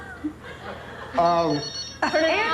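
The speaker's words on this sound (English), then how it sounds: "Dude, you got a phone ringing." A home telephone rings in bright electronic bursts, one near 1.2 seconds and another at 2 seconds, close and fairly loud over room tone, with people chuckling and talking nearby.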